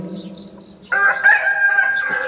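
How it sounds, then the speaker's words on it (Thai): A rooster crows loudly and close in the morning, one long drawn-out call rising over softer clucking and birdsong at the start, with no talking. "จากเสียงนก เสียงแมลง เสียงไก่ขันในยามเช้า"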